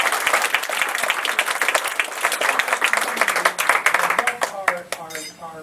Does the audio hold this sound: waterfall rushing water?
no